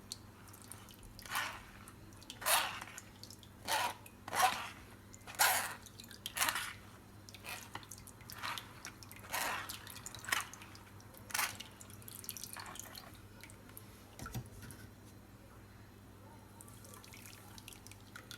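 Lamugee, a spiced rice drink, stirred gently in a pot, giving soft rhythmic liquid swishes and drips about once a second, quiet and close, fading toward the end.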